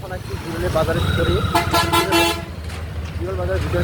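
Dense bazaar traffic jam in Biral, with a vehicle horn tooting several short blasts in the middle over a steady rumble of engines and street noise, while people talk throughout.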